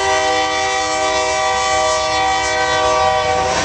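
A train rolls past on the track right beside a military history museum building in Kansas, its loud, sustained horn blaring steadily over the rumble of the cars, close and continuous with no talk.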